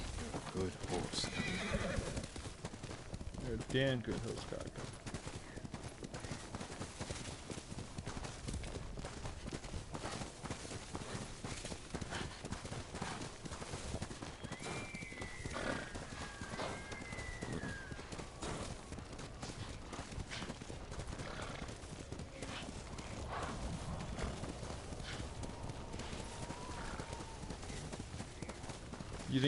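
A horse in the Ghost of Tsushima video game, a completely black steed in snow, whinnies and its hooves clip-clop steadily throughout, with a loud neigh early on, mixed under game audio and someone talking.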